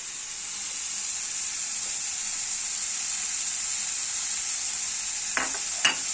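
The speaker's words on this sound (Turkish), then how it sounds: "Şimdi karıştırıyoruz." A pan of mushroom meze with spices sizzling steadily on the stove, with a constant bright frying hiss throughout and a couple of faint spoon scrapes and clinks near the end.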